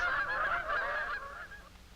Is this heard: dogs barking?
no